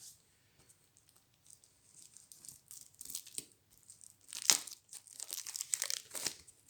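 Small thin cardboard tokens from the Horreur à Arkham board game are punched out of their sheet by hand, giving close, faint crinkles and crisp snapping pops that grow busier and louder toward the end.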